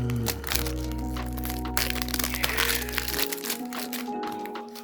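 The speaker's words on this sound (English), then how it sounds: "Oh, those unboxing sounds." A CD package gets unboxed, its plastic and cardboard wrapping crackling and crunching in close, busy bursts over a dense, loud background of music.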